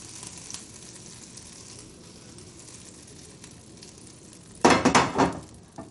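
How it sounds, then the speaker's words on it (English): A quiet low hiss of butter sizzling in a hot pan, then a sudden loud burst of crackling and spitting near the end. "Ooh, I hear that butter sizzling."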